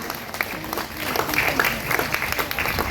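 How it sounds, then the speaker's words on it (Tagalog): Audience applause at a 2024 graduation ceremony, a steady crowd of clapping hands sustained for a few seconds at moderate distance, with faint voices mixed in. "Sige, pwedeng pumalakpak."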